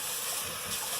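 Cold water poured from a tap into a quarter-cup measuring cup in a home kitchen, a brief steady hissing gush of running water, close and fairly quiet.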